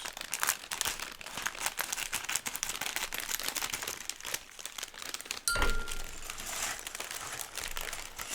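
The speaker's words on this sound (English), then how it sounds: "I'm just opening mine like a bag of crisps." A plastic bag of Lego pieces is torn open by hand, giving close, continuous crinkling and crackling of plastic with sharper tearing bursts partway through.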